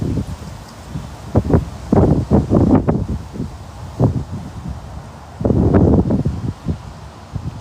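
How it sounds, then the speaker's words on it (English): Strong gusts of wind rustling trees outdoors, bursts of loud leafy rush and microphone buffeting that swell, fade and return, close and rough, with no talking. "It's a big old gust of wind."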